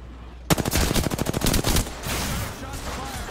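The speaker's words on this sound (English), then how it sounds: "Shots fired and they're hitting me." Rapid automatic gunfire in a video game, a loud burst of about a dozen closely spaced shots that cuts off into a ringing, noisy tail.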